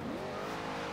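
A car driving in the Forza Horizon 2 racing game, its engine roaring loud and steady through a brief one-second burst with no voices.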